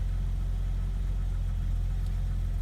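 A car engine idles close by with a steady, unbroken low rumble and slight fluctuations. No voices are heard over it.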